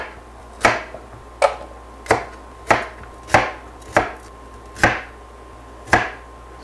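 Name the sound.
knife chopping radishes on a cutting board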